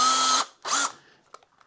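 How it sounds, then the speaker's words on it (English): Two short bursts from a power drill boring holes for a phone mount: a whirring run, a brief pause, then a shorter second spin, followed by faint clicks of handling. "we're going to drill these holes with the drill bit that they sent me"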